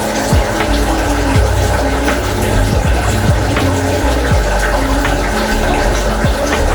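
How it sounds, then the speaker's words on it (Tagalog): Water churning and splashing as it is mixed with rock salt and brine shrimp eggs in a hatchery container, a steady close, loud wash with repeated bubbling sweeps. "Mix lang natin sa tubig para lumubog ka."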